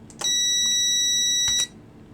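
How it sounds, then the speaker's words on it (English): A multimeter continuity tester, probed across relay terminals in a home speaker-switching setup, gives a single steady high-pitched beep lasting about a second and a half, loud and close, with no talk over it. "My multimeter is giving a beep if there is no resistance, so if there is a connection."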